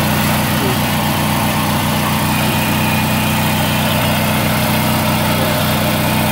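The engine of a Bolens 3014H garden tractor runs loudly and steadily at idle close by, a constant low throbbing rumble with no break.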